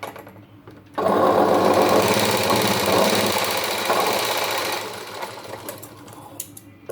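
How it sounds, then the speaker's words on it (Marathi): A sewing machine stitches blouse fabric in one continuous loud whirring run of about four seconds after a quiet start, then slows and fades into softer clicks and handling noises. "इथून शिलाई मारायची अशी आडवी"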